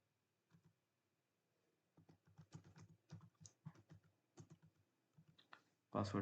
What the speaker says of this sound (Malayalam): ടൈപ്പ് ചെയ്യുക.